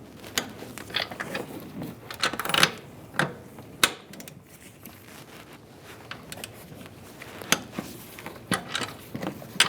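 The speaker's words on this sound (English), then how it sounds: "Now we're going to torque these to 37 foot-pounds." Sharp, irregular metallic clicks and taps from a torque wrench tightening the stub shaft bolts to 37 foot-pounds on a 2007-2013 Chevrolet Silverado 1500, close by over quiet shop background.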